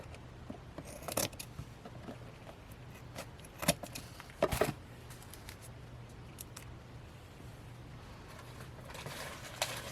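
Scissors trimming paper straight while crafting a journal, with a few quiet snips and crisp cuts scattered over a soft, hushed room background.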